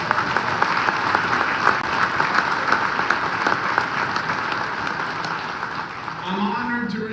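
Applause at a union hall political event for an honored guest, a crowd clapping steadily and densely, fairly loud, with a voice beginning to speak over it near the end.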